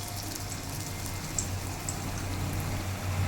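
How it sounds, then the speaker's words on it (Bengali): Green banana and potato koftas fry in a wok of hot oil, giving a steady close sizzle with scattered small crackles and pops throughout, no voices. "এবার আস্তে আস্তে এগুলো লাল লাল করে ভেজে নেব"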